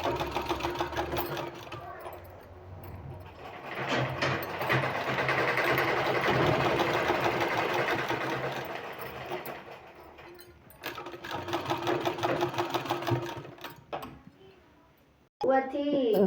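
A sewing machine stitches the seam of a sleeve, running in a steady continuous mechanical whir that pauses near the end, close and fairly loud, with a spoken voice partly over it.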